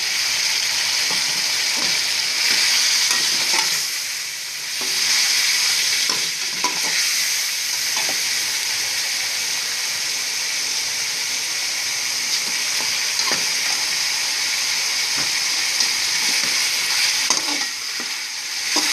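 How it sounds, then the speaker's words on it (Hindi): Boiled chicken is stirred into frying biryani masala in a pan: a continuous close sizzle with repeated scraping and stirring strokes throughout, and no talking. "अब हम इसमें मिक्स करेंगे अपना बॉयल किया हुआ चिकन।"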